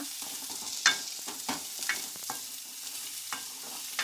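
Ridge gourd peel fries in a pan with garlic, giving a steady soft sizzle broken by several sharp scraping clicks of a spatula stirring against the metal, close and alone without talk.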